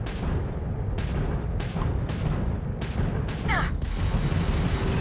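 Spaceship weapons fire in bursts in the game Starfield, rapid repeated blasts and booms layered over a dense rumbling background, with a brief electronic chirp.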